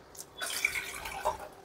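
Water is poured into a bowl for making makki ki roti dough. A short, soft splash and trickle is heard close by, lasting under two seconds.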